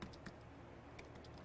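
Keys on a computer keyboard are struck to enter a command, producing a handful of faint, scattered keystroke clicks over a quiet, steady background hum.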